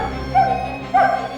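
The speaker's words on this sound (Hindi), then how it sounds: "टोनी भौंक रहा था ना?" Two short, high dog yips or barks, close and fairly loud, about half a second apart over a low background hum.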